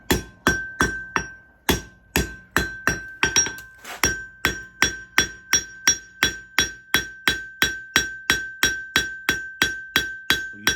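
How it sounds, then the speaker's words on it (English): A hammer forges a hot steel blade with steady, ringing blows, about two or three strikes per second, close and loud with a bright metallic clink and no talking. "I'm actually hammering with purpose, carefully controlling each blow."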